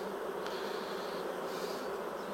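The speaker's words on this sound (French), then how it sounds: "Oh, j'ai coincé une abeille." Honeybees buzz steadily around an open hive while a beekeeper works the frames and places a queen on the brood comb; a faint, continuous insect drone with no speech over it.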